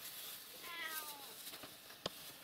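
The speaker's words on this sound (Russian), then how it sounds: "Кошки, наверное, поют тебе." A cat gives a clear, close meow during a morning feeding, followed by a sharp click, with faint background noise and little else.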